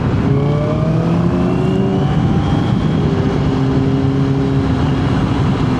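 A 2007 Yamaha R6 sport motorcycle runs continuously and loudly with a steady engine drone and shifting tonal whine. It sounds close, like riding along, with no speech.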